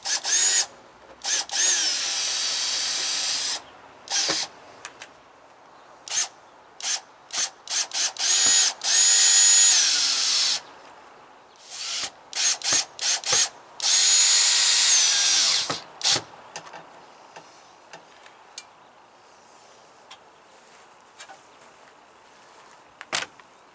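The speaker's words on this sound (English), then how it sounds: "I've got to start at one screw, so we'll get that in there, go to the other side, get it locked down" A power drill drives screws into an RV trailer while a front window rock guard is fitted, sounding as loud repeated bursts of whirring, some long and some short, with quiet pauses between them and no talk.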